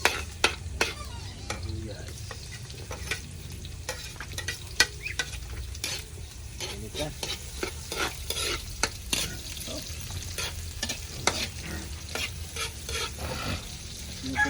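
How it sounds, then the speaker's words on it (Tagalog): Onions sizzling in a hot pan after garlic, for pork rib adobo, continuous crackle with sharp pops and utensil stirring throughout, close up, with no talking. "Tunog natin mga boss yung sibuyas."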